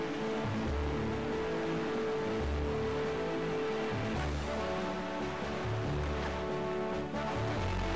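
Sailing music on the Great Sea in Zelda: The Wind Waker, sustained melodic tones over a steady wash of ocean waves and wind, continuous and fairly soft with no talking.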